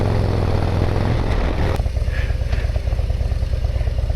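Motorcycle engine running loud and close, a heavy low rumble that settles into a steady, rapid idle-like throb with no voices over it.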